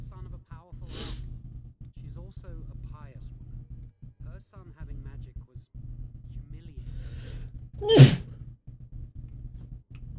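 A person gives a single sharp, loud sneeze near the end, rising clearly above a steady low hum and faint voices in the background.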